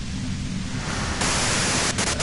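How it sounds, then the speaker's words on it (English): Dense white noise static in the video game Disco Elysium, a loud, steady hiss that thickens into a brighter wash partway through, with a couple of brief crackling bursts near the end. "If you've got something really important to say, you can do it through the white noise"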